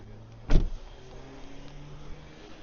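Front power window of a Skoda Fabia hatchback on a used-car lot, a short whirring electric motor burst followed by a low continuous hum, close with no talk.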